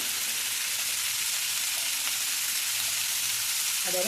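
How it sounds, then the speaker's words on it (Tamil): Chopped capsicum sautés in a pan with potato, giving a steady, even, close sizzle with a hissy, rain-like texture that barely changes, with a light stir near the end and no voices. "அதையும் சேர்த்து சும்மா ஒரு 2 வதக்கு வதக்கலாங்க."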